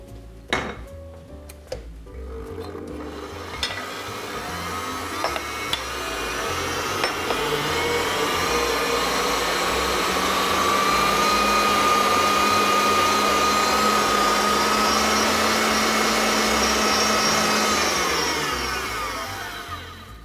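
An electric grinder grinds soaked chickpeas for pasuts dolma. A few clicks and clatters lead into a steady, loud motor whine that holds for many seconds, then winds down at the end.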